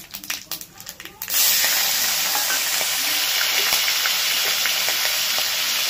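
Prawns drop into hot oil with a bay leaf, cinnamon and small cardamom. A few clattering knocks come first, then a loud, steady sizzle that holds to the end.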